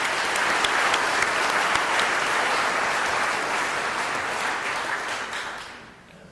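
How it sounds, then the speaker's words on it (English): A large audience applauds steadily for several seconds, the clapping dense and even, then gradually fading out toward the end. "Please join me in a round of applause for all of these leaders."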